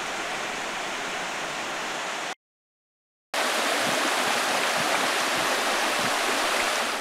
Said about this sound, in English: Here we have the waterfall that's at the very top